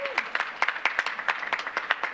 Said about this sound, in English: We can now clap.